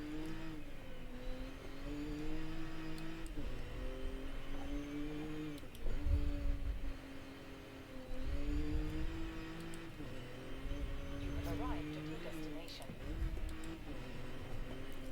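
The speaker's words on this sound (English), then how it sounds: "They really nailed the engine noise of this type of car too." Nissan Z NISMO in the video game Forza revs and shifts repeatedly, engine note rising and falling in waves at moderate volume under someone talking.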